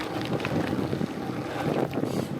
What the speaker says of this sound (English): today's a particularly windy day